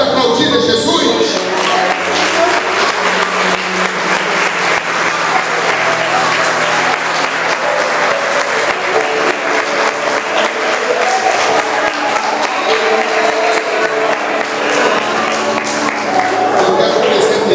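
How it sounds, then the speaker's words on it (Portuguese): Loud, sustained congregational applause at a church service in honor of Jesus, a dense roar of many hands clapping steadily for well over fifteen seconds with a faint crowd murmur beneath. "Você pode aplaudir a Jesus?"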